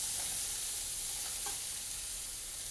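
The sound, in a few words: shallots and Dijon added to hot pan, sizzling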